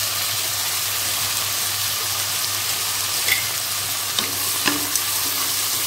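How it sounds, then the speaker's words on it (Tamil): Onions sauteing in a pan for vegetable biryani give a dense, loud, continuous sizzle close up, with a few faint scrapes of stirring and no voices. "அந்த வெங்காயத்தை நல்லா வதக்கிக்கலாம்."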